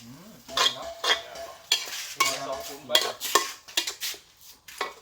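Puak mushrooms and pork belly are stir-fried in a pan, with a utensil scraping and clanking against the metal in quick, irregular bursts over a light sizzle, close up and without speech.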